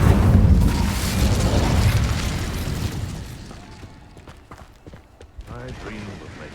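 In the video game Hogwarts Legacy, the Incendio fire spell erupts in a loud whooshing, rumbling blast that fades over a few seconds into quieter crackling game ambience, with a voice faintly heard near the end.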